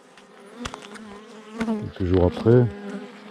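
Honey bees buzz around a hive fed with candy, a steady insect drone running throughout, with louder close passes of buzzing and a brief voice mid-clip.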